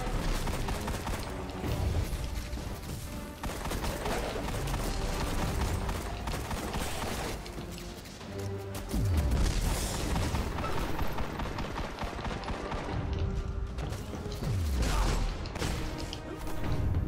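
Enemies fire hand cannons in Destiny: The Taken King, with loud, dense bursts of gunfire, impacts and game effects layered over a continuous busy combat soundscape.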